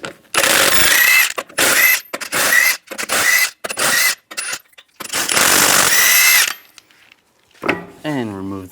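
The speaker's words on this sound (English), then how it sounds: "Using a 22mm socket, I'll take the lug nuts off." Repeated bursts of a 22mm socket on an impact wrench rattling lug nuts off the rear wheel of a 2007-2014 Cadillac Escalade, close and loud, with short gaps between bursts and a fading ratchety rattle at the end.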